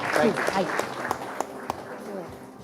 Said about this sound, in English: Ladies and gentlemen, a huge round of applause, please, for our actor of the year